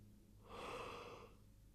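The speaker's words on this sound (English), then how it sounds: "I think I've yawned like a gajillion times." A person gives a single long, breathy yawn that swells and then fades, heard faintly and close over low background hum.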